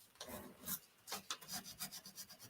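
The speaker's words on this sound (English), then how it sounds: "That little nail file." A small nail file rasps back and forth on a craft piece in quick, regular strokes, faint but close, with no voices over it.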